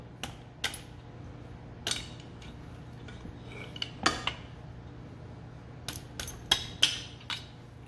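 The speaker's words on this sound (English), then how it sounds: "I'm just gonna take it, punch these old bushings out." Old shifter bushings being punched out of a Hyundai Genesis Coupe with a 10mm socket on a ratchet, a series of sharp metallic taps and clinks, some in quick pairs, spaced over a low steady hum with no talk.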